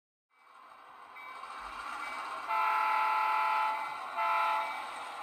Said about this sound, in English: Now let's fire up the engine and get this train rolling.